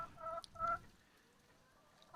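Backyard chickens give two short, close clucks in quick succession, then fall quiet with only faint background sound.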